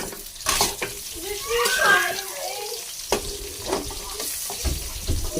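French fries frying in hot oil for an afternoon snack, a steady crackling sizzle with bubbling bursts and some stirring, with faint voices in the background.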